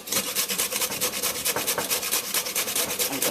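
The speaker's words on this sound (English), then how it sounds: "So I'm gonna go ahead and grate that now." Fresh ginger is grated in quick, rhythmic rasping strokes, a steady scratchy back-and-forth close to the mic with no voices.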